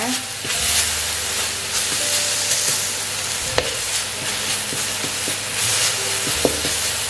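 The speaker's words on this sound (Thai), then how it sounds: "ตอนนี้เรามาผัดพริกกระเทียมต่อเลยนะครับผม" Steady, loud sizzling of chilies and garlic stir-frying in a hot wok, with scraping stirs and a couple of sharp metallic clanks, no talking.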